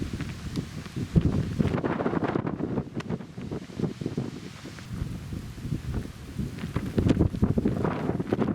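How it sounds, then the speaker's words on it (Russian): A night thunderstorm with rain and gusting wind around midnight during a river trip on the Sylva, heard as a dense, continuous rumbling roar with buffeting gusts and no voices. "Знать, ночью будет гроза, и ближе к полуночи она дошла и до нас."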